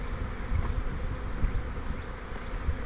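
Honey bees swarm thickly around an 8-frame hive during feeding, an unbroken low droning buzz close by with small surges, no voices.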